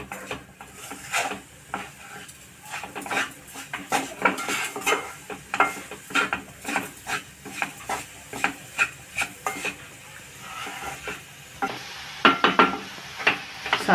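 Sugar and coconut mixture being stirred in a pan over medium heat, a spoon scraping and clinking steadily against the metal in quick repeated strokes, close and fairly loud with a soft sizzle beneath.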